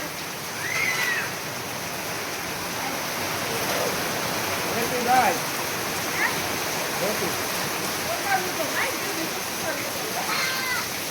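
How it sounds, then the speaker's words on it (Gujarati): Rain pours down heavily in a constant dense wash of noise, with faint voices briefly rising above it now and then. "અરરો કેવો વરસાદ છે"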